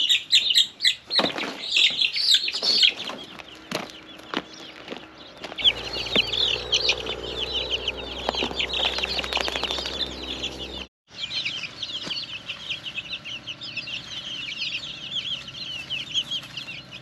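Cornish cross broiler chicks cheep and cluck continuously in a dense, close chorus, with occasional wing flaps and shuffling among the flock.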